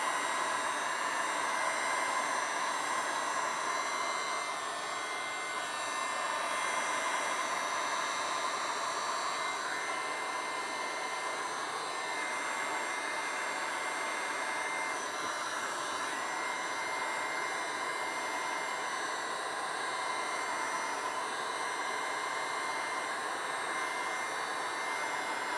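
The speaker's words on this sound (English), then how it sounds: "And then you're going to hit it with the heat gun." A heat gun blows steadily on EVA foam, a continuous broadband airy roar that holds at an even loudness for the whole stretch, with no talking over it.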